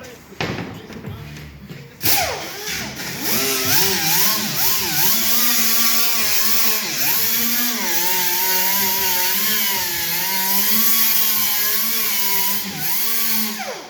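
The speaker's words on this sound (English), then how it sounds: "now I'm gonna use the die grinder I was telling you guys about, and then cut it or sand it down at a perfect 90-degree" A die grinder sands a template edge, its high whine rising and falling in pitch as it bites into the material. The sound is close and continuous for most of the span, with a brief handling noise before it starts.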